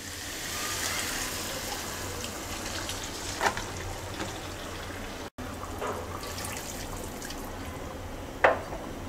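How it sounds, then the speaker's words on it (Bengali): Two cups of hot water are poured into a hilsa fish curry in the pan, a soft, faint gushing with a couple of light clunks, heard without speech. "এবার ঝোলের জন্য দিয়ে দিচ্ছি 2 কাপ গরম পানি।"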